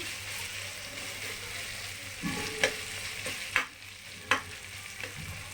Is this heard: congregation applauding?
no